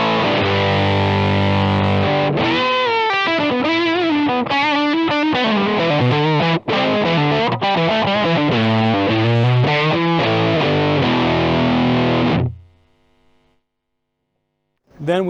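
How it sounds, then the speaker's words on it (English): Electric guitar played through a Sola Sound 2 fuzz pedal, an aggressive, heavily distorted tone; a loud run of chords and riffs fills about twelve seconds, then cuts off and decays into near silence. "And the more aggressive Sola Sound 2."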